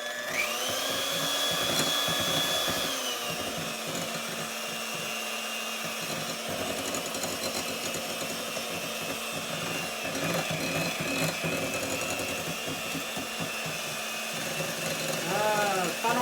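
Electric hand mixer whirring steadily through funnel cake batter of eggs and other ingredients in a bowl, a continuous near motor drone lasting throughout with a brief higher whine at the start.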